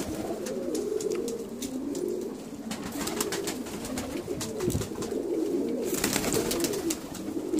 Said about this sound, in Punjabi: ਬੁੱਢਾ ਕਬੂਤਰ ਹੈ ਜੀ